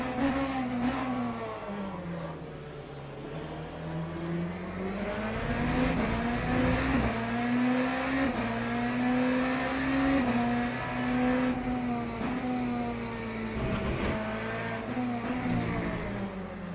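Porsche race cars in the Le Mans Ultimate racing game, lapping the Portimao circuit, drone with a loud, steady engine whine that rises and falls with the revs, up close and continuous, with other cars' engines layered beneath.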